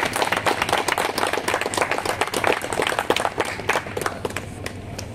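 A crowd of teachers claps vigorously to welcome a guest at a union press meeting, a dense, fast patter of hand claps that stays loud and steady for the whole stretch.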